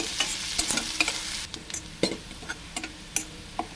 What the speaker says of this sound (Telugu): ఇప్పుడు ఈ ఉల్లిపాయ అన్నది ఇలా ఎర్రగా వేయించుకోవాలి